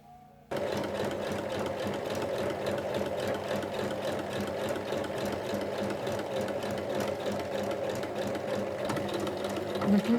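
A sewing machine stitches a zipper face-down onto the right side of cushion cover fabric, running in one long, steady buzzing stretch of needle strokes, close and continuous without pause.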